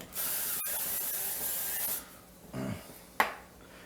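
Two or three short hissing sprays from a non-aerosol olive oil pump bottle onto an air fryer basket, close up, the first long and steady, followed by brief bursts and a light knock.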